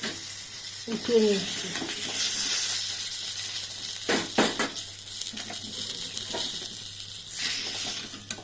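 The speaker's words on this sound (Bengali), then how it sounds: "আর পটলগুলোকে ভালো করে ভেজে নিচ্ছি" Stuffed pointed gourds fry in oil with a soft, steady sizzle, broken by a few scraping and clattering spatula moves, and a voice speaks briefly.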